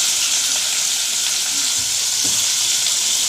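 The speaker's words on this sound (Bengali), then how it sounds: "এই যে কড়াইতে ভেন্ডি আলু দিয়ে দিয়েছি। এই যে ভাজা হচ্ছে ভেন্ডি আলু।" Okra and potatoes fry in hot oil in a wok, giving a steady, close sizzle with faint stirring scrapes throughout and no talking.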